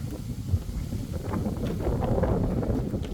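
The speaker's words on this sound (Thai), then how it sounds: "แล้วก็มีลม แรงนะครับ" Strong wind blows on an elevated mountain road between Lom Kao and Phu Luang on a hot day, a steady low roar buffeting the microphone throughout.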